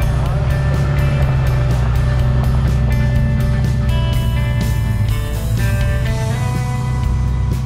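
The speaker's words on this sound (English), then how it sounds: "it must be a new Kubota tractor" A new Kubota tractor engine runs steadily nearby, a loud, constant diesel rumble with a tonal whine that shifts slightly in pitch, with occasional voices under it.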